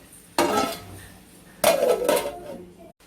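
A mixed vegetable curry of cauliflower, green peas, carrot and capsicum stirred in a pan, with two bursts of metal scraping and clatter followed by a brief clink as the lid goes on.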